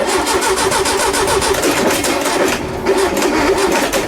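A chrome VW engine in a 1971 VW Karmann Ghia cranks and catches, then runs loud and close with a fast, rough pulsing beat that wavers briefly before settling.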